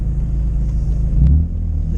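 Original-engine BMW M3 E46 convertible droning steadily while being driven, a loud, continuous low rumble with no talking over it.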